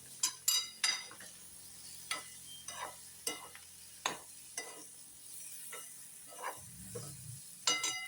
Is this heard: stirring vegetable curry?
yes